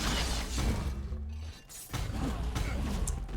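Chain-breaking sound effect from the video game God of War 3: dense, harsh shattering and crunching bursts with a brief drop in the middle before the loud grinding debris resumes.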